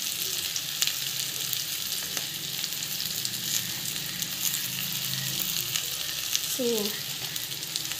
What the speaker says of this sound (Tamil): இது பார்த்திங்கன்னா ஜஸ்ட் வந்து வதக்கிட்டுருக்கோம்